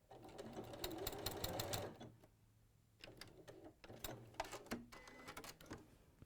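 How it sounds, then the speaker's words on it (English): Sewing machine stitching around the collar of a Rondelle bag, fast steady whirring in bursts with a pause in between, close and clear. "So I've just sewn around."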